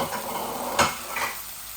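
Tomatoes fry in a pan for a Bangladeshi egg and potato bhuna, giving a soft, steady sizzle with a single sharp clatter of a utensil partway through; the sound is fairly quiet and no one speaks.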